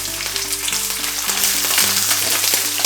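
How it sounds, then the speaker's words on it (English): Vegan soya and pea protein bacon rashers fry in hot oil in a pan with a loud, close, continuous sizzle and scattered pops, and a low hum runs underneath. "it's sizzling and popping a lot more than bacon"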